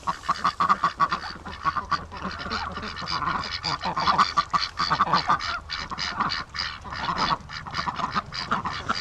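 Ducks and geese call loudly and continuously nearby, a dense chorus of overlapping honks and quacks.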